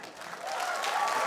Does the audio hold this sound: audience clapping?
yes